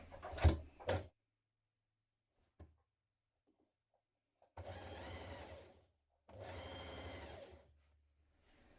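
A sewing machine stitches fabric while a Sydney dress is being made, two steady runs of whirring lasting over a second each, separated by quiet, with a few light clatters before, close and with no voices.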